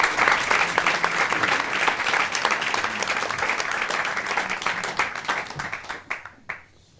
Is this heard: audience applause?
yes